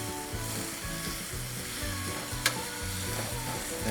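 Burger toppings sizzle on a Nuke Argentinian grill as they caramelize, a continuous close hiss with rhythmic scraping strokes of a spatula and one sharp metallic tap near the end.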